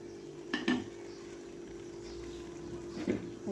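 A spoon scrapes and knocks against a cooking pot as rice and green fava beans are stirred together, with a few clustered clinks near the start and again near the end over a quiet simmering background.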